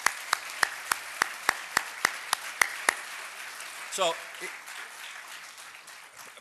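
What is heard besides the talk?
applause for conference staff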